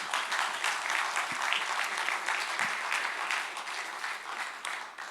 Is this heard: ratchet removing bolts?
no